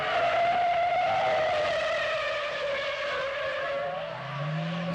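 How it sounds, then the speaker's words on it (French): A 1973 Chrysler New Yorker Brougham's tires squeal in a long, sustained skid on a soaked track, the whining pitch sliding gradually downward while an engine rumbles low beneath. "Le dérapage suivant n'est vraiment imputable qu'à l'état détrempé de la piste"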